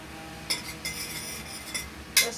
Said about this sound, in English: So I'm adding my ghee to the pot for the rice.